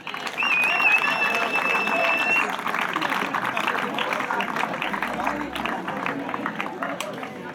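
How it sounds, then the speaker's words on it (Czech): Crowd applause at a women's team award ceremony of the South Bohemian firefighting league in Chlum u Křemže, a dense sustained patter of many hands, loud throughout with a brief whistle-like tone early on. "Za druhé místo můžete dnes zatleskat děvčatům Lišov B."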